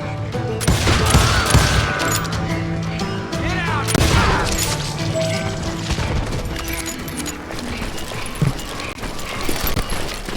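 Gunfire in the Western video game Call of Juarez Gunslinger: a busy stretch of scattered shots and impacts over a steady game music bed, with clattering crashes and no talk.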